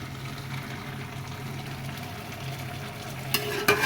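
Dried fish cooks with raw and ripe tomatoes in a pan, giving a continuous low sizzle and bubbling, with a couple of sharper scraping clatters near the end.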